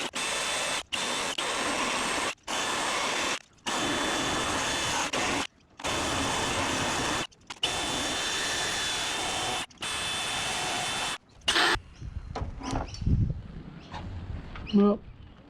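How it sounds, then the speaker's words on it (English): A wire wheel on a power tool grinds rust out of a seam on a classic Nissan Skyline Hakosuka's car body, running in loud, steady bursts with short pauses for about twelve seconds before handling clatter and quieter knocks. "So now I guess I wire wheel some of this rust out"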